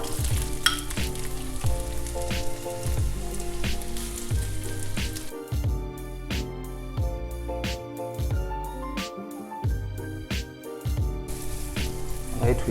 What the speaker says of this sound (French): on baisse un petit peu le feu et là on ajoute les oignons